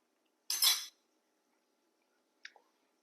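A fresh, clean spoon clinks against a dish while cornbread dressing is made, giving one short, bright rattling clink followed by a quieter double tap a moment later, all against near silence.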